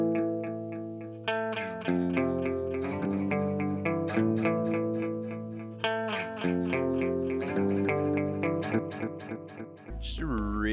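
Clean electric guitar through Amplitude 5, picked notes ringing rich and shimmering with delay repeats and chorus-like width, a steady flowing line played alone with a brief noisy burst at the very end.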